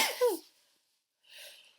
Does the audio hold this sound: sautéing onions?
no